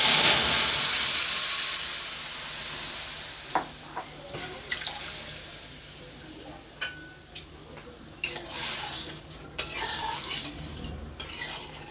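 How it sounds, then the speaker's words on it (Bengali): Hand-mashed masoor dal poured into a pan of fried onions, giving wet stirring and sizzling sounds with several short clinks and splashes over a steady background hiss, with no talk. "এবার ডালটা ঢেলে দিচ্ছি।"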